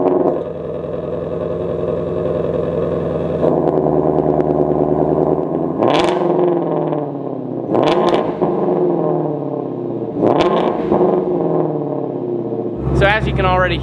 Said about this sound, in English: So let's go ahead and turn the Shelby on.